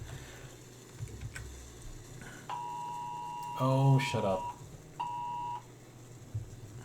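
Alarm beeps from the Space Engineers video game: a steady electronic tone sounds for about a second, then repeats more briefly, with a short spoken outburst and other game noise between them.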